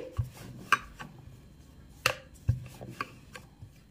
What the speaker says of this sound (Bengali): লাস্ট এই রুটিটা বেলে নিচ্ছি